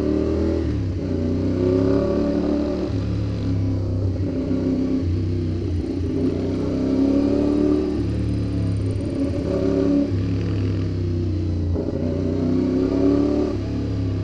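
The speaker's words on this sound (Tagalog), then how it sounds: "Traffic na talaga sa Antipolo" Road traffic in Antipolo heard from inside or beside a vehicle: a steady low engine rumble with shifting idle and revving tones, loud and continuous, with no clear talk.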